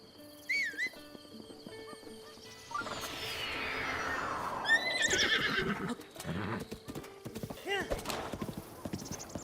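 A horse in the video game Zelda: Breath of the Wild gallops with quick hoofbeats and neighs several times, a whinny opening and another later, over faint background tones and effects.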